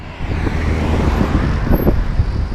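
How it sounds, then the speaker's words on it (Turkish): A 2016 Hyundai Accent Blue with a seven-speed dual-clutch gearbox pulls up, a steady close engine hum and road rumble with light tire noise and no voices. "Ve aracımız geldi"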